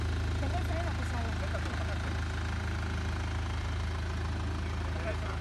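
Engine of a Frontera car running steadily at low revs during a driving lesson, a constant close rumble throughout with people talking over it.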